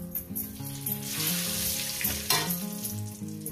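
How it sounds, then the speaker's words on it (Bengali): Bay leaves dropped into hot oil for a chicken curry crackle and sizzle loudly and continuously, with a brief stirring scrape near the end. A soft tonal melody runs underneath throughout. "দিয়ে দেবো তেজপাতা"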